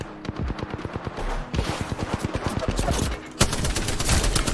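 Loud, rapid gunfire from the Apex Legends video game, including the Mastiff shotgun, comes as a dense stream of sharp shots with brief gaps, close and nearly continuous throughout.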